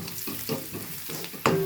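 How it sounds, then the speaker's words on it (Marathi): Ground spices, red and black chilli powder with turmeric, fried in oil in a pan: a close sizzle broken by rhythmic stirring scrapes, ending in a louder clatter with a brief metallic ring. "मसाला चांगला तेलात परतून घ्यायचा आहे।"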